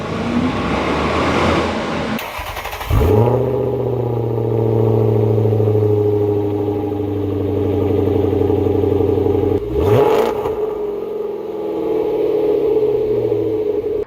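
A 3.9 V8 rear-wheel-drive sedan on its stock exhaust revs twice, each blip rising sharply and then settling back into a long, steady drone, loud and close with no voices.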